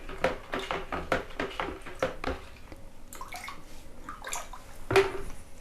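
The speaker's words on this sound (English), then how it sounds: "I am done with stirring" Liquid plant fertilizer treatment is stirred in a container, giving a series of close, sloshing and clinking strokes in a quick rhythm, then scattered softer splashes and a sharper knock near the end.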